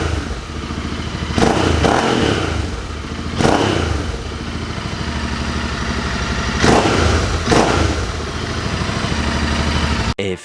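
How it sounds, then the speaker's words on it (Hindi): A motorcycle with a three-year-old battery and starting trouble is revved after being jump-started, its loud idling engine surging in several sharp throttle bursts with clattering mechanical noise between them. "चलो थोड़ा सा रेव करते हैं इसे।"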